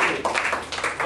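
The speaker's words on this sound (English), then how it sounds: "Can I get another round of applause for your classmates?" Freshman students at a high school bootcamp burst into a short round of applause for their classmates, dense clapping heard nearby.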